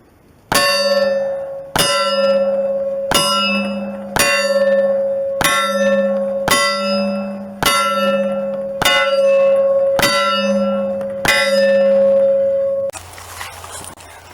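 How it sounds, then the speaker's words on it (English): A metal bell target struck by gunfire from 150 feet rings out ten times in a steady rhythm, each loud clang sustaining until the next hit, followed by a short stretch of noisy tail. "As you heard from the bell ringing before, Jimmy went 10 for 10 at 150 feet."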